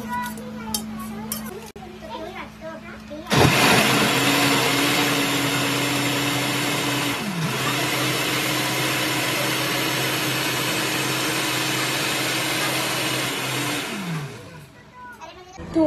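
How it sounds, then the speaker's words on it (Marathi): A mixer grinder whirs loudly, blending tomatoes, onion and red chili, running steadily for about ten seconds with a brief dip partway through before winding down, after some background chatter at the start. "आम्ही मिक्सरला लावते टोमॅटोज, अनियन, लाल मिरची"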